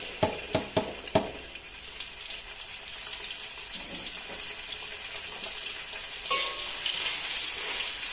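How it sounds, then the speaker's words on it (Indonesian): Ground spice paste, made without candlenut, hits hot oil for Balinese-style milkfish: a few sharp clatters first, then a loud, steady sizzle that carries on alone. "lalu kita goreng"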